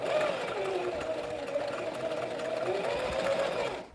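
A Singer Facilita Pro 4411 sewing machine runs steadily through a zigzag stitch, its close, continuous mechanical whir and needle rattle holding for about four seconds before stopping.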